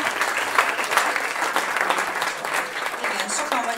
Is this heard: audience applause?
yes